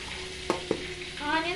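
Onions sizzle in butter and leftover oil in a pan, a steady close frying hiss with two sharp utensil knocks and stirring scrapes.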